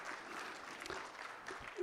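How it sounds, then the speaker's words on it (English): A conference audience at a national antimicrobial resistance meeting in Kigali, Rwanda applauds, giving a soft, continuous patter of clapping with a voice faintly beneath. "let's give applause to everyone to being here"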